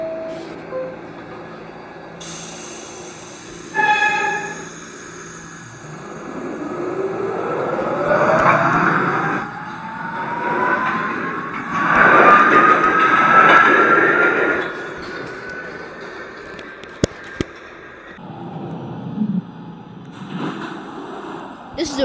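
A Queens-bound R subway train leaves Whitehall Street–South Ferry station, a rising electric motor whine and rumbling wheels building and swelling over several seconds, then fading, with a brief chime and announcement voice near the start.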